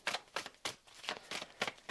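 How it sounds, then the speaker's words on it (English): Tarot cards shuffled by hand in quick, crisp riffling bursts, about six rapid flutters close to the microphone with brief pauses between them. "Sorry, I've thrown the cards again with my terrible shuffling. Let's give them a little bit more of a shuffle."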